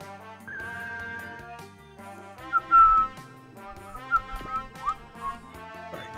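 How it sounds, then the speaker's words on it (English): A person whistles a few short, wavering notes over busy synthesized music from a Super Robot Wars Z game on PS2, with the whistled tones rising briefly above the soundtrack mid-clip. "I try not to whistle on stream."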